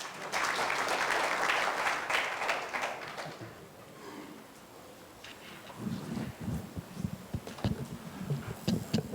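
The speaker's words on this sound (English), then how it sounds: "Let's give him another round of applause." Audience applause after a conference talk on chickens, hens and eggs at an international early childhood development session in Rwanda; a dense burst of clapping fades after about three seconds, then scattered claps and faint murmur follow.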